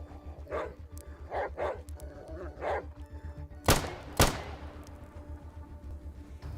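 A dog barks several times in the ATOM RPG video game, short muffled yips spaced across a few seconds, followed by two sharp loud cracks like gunshots over a low steady game hum.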